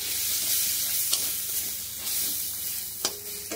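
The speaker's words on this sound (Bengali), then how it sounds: "এবার ভালো করে মশলাটা কষিয়ে নেবো" Spice masala with a spoonful of garam masala powder and a little sugar fries in a pan, giving a constant close sizzle broken by scattered scrapes and clicks of stirring.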